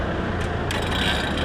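Vacuum pump switched on for deep evacuation during air-conditioner servicing, producing a loud steady mechanical drone and rattle that runs continuously throughout, with no talk.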